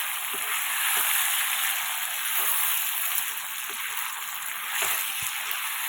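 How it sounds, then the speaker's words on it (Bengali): Boiled chickpeas frying in hot oil, a continuous broad hiss of sizzling with soft periodic scrapes and knocks as they are stirred, close and steady with no voices. "এবার সেই সেদ্ধ ছোলাটা ওর মধ্যে দিয়ে দেবো, দিয়ে ভালো করে কষতে হবে।"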